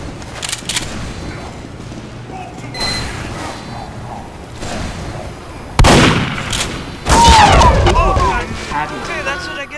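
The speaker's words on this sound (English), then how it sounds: "This guy has a rocket launcher. He's shooting a rocket." A Team Fortress 2 soldier firing a rocket launcher, loud booming blasts near the end with a whooshing launch and explosive crack, over a busy game background.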